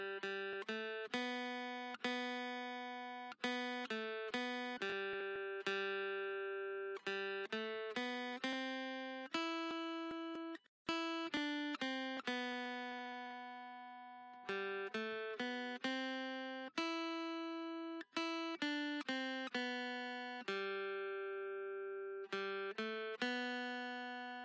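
Guitar playing the eight-bar melody riff of a song, adapted from the vocal line, with clean plucked single notes in a steady rhythm that ring and decay, played alone and quietly.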